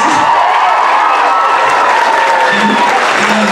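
Loud, dense audience applause with some cheering at a school variety show, continuous and close throughout with little else audible.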